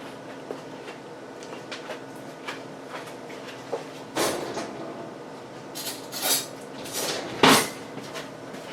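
A spoon and other cutlery clink and knock against a pot of mashed potatoes, first in light sparse taps, then in several louder clattering bursts near the end.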